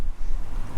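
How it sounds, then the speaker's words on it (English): Wind at the coast near Gairloch, a loud, constant buffeting rumble across the microphone with no voices. "It's a bit windy up here."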